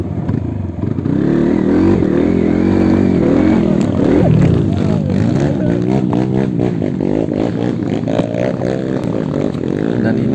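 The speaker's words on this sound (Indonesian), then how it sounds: "mungkin akibat spin roda belakang saat ban tidak mendapatkan traksi karena gas dibuka terlalu besar" A trail motorcycle revs hard with throttle wide open as its rear wheel spins without traction on a dirt track, a loud, close, continuous engine roar with wavering pitch and scraping clatter.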